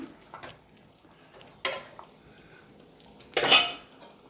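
Chicken curry with cut tomato stirred in a pot, a few separate metal clanks and scrapes of a spoon against the vessel with quiet gaps between them.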